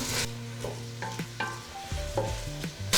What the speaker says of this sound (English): you can add in the onion and the garlic. And we're just gonna give them a couple of minutes on medium heat